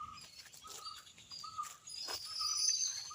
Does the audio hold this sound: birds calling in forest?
yes